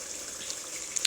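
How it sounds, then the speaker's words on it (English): Fresh tomato Nigerian rice stew, seasoned with herbs, simmers in a pot, giving a soft, steady bubbling hiss with a few small pops near the end; no one speaks. "here it is, all seasoned up and bubbling"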